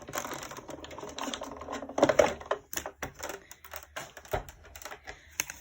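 A die-cutting machine cuts out a stamped image with a run of quick mechanical clicks and rattles, irregular and close, separated by brief quiet gaps.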